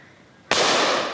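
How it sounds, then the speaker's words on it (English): A single loud gunshot cracks out during a bird hunt, bursting suddenly from quiet outdoor background and ringing on in a broad, slowly fading roar with no talk over it. "Good shot."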